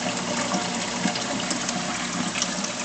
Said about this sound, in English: the water coming out of the skimmer is about the only noise that I really get